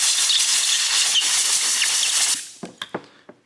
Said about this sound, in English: And then I hit it with compressed air.